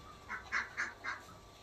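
Ducks in a garden, bathing in water, give four short honking quacks spaced evenly over under two seconds, fairly faint against a quiet background.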